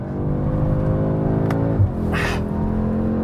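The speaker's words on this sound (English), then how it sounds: "you can sort of throw it around the corner and accelerate out" A 2024 Audi S3 prototype accelerates hard out of a corner, its engine note a loud, close, rising harmonic drone with a brief dip and tire rush midway before the pull continues.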